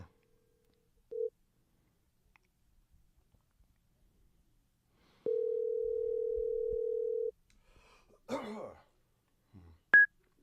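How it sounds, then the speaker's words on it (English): Dialing out to make a phone call: a short beep, then a steady tone for about two seconds, a brief rustle and another short high beep, all heard close against near silence. "I'm going to hit pause and make this phone call"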